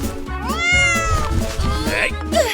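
Cartoon cat meowing in a Sprunki-themed video game, a run of drawn-out, rising and falling meows over steady music, loud and close throughout.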